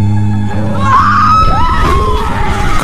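Loud, panicked screaming from a group of people in a film scene as arrows fly toward them, with rising, overlapping shrieks and yells that continue throughout, backed by a dense layer of commotion.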